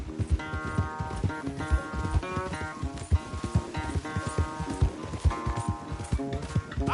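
In Red Dead Redemption 2, a horse gallops in a steady rhythmic clip-clop of hoofbeats, with game music playing under the hooves.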